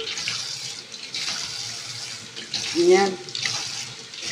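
Water poured over pet turtles during a bath, a soft splashing pour with a brief louder gush near the end, under a voice talking.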